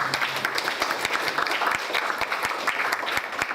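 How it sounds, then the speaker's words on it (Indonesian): Students and guests at a book discussion in a junior high school in Pare, Kediri, clap together, a lively close round of many hands with crisp individual claps, sustained without pause. "Tepuk tangan."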